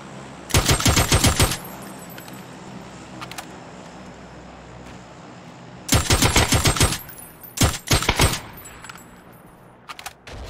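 Gunfire from a weapon in the PUBG video game: loud rapid automatic bursts, one long burst early, then two more clustered bursts later and a few faint single shots near the end, over quiet game ambience.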